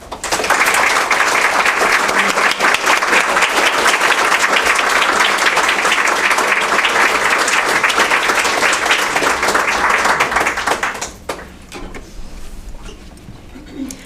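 An audience at an evening museum lecture applauds to welcome the speaker, a loud sustained wash of many clapping hands lasting about eleven seconds before fading into quieter room noise.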